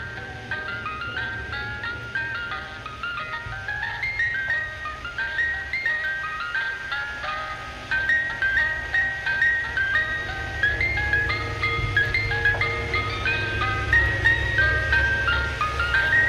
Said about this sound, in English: anytime I'd hear an ice cream truck passing by